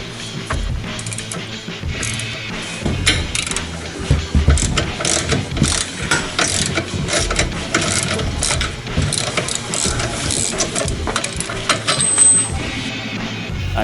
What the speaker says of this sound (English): Next, undo the upper and lower drop link bolts.